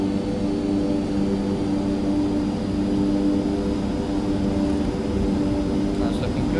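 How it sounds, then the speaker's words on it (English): A turboprop engine in X-Plane 12 holds a loud, steady tonal drone with layered harmonic hum as the throttle advances for takeoff, and a voice talks over it. "we'll slowly advance the throttle levers"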